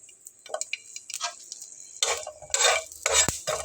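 Whole garlic cloves sizzling in a little oil with cumin, stirred with a spoon that scrapes and clinks against the pan in short bursts, the frying growing louder toward the end.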